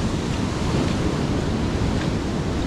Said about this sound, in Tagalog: Galit na galit talaga. Yung tubig dagat.